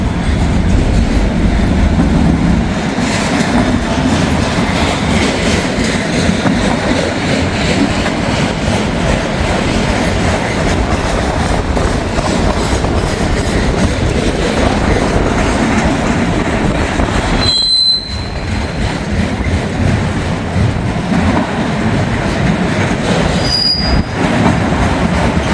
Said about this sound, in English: This will probably be the final train of the day for me.